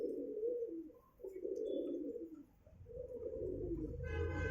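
Pigeons coo steadily in low, throaty rolling calls close by, with a brief pause between phrases and a faint higher chirp near the end.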